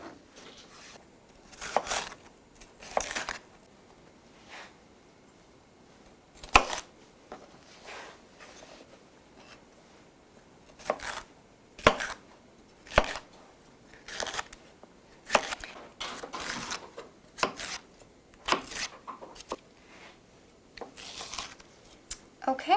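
Knife chopping cored, seeded bell peppers on a cutting board, a run of sharp, close taps in irregular bursts with brief pauses.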